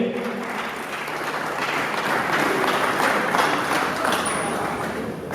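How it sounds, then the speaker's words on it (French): An audience at a sound art festival in Kinshasa applauds steadily, a dense patter of many hands clapping at a moderate distance that holds throughout. Faint voices can be heard under the clapping. "Sous vos applaudissements, s'il vous plaît"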